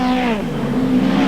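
A 1980s race car engine loud and near during a circuit race, its steady high revving drone sliding in pitch as the car runs at speed, a car that is not running to perfection.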